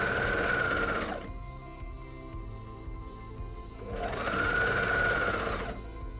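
A sewing machine runs in two loud, steady bursts with a quieter pause between them as it stitches elastic onto fabric, the motor whirring close up with no talking.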